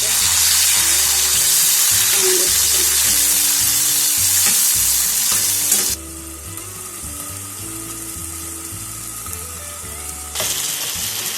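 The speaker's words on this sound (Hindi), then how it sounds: "अब ये हमारा मसाला तकरीबन भून चुका है" Steady, close sizzling of spice paste with tomatoes, green chilies and ginger-garlic frying in oil, with faint stirring clinks, continuing throughout and dipping slightly in loudness midway.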